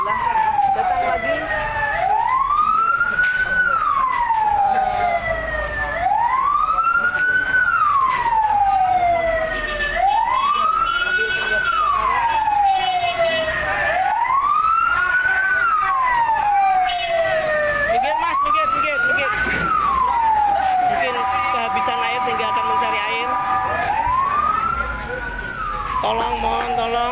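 Fire engine sirens wail as the trucks arrive at a burning market in Weleri, a loud, repeated rising and falling howl cycling steadily, with crowd noise and talking underneath.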